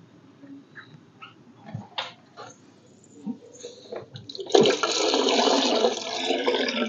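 Aquarium water drains out through a drain pipe on a sump-filter tank, starting with scattered small clicks and knocks before a loud, steady rush of flowing water takes over.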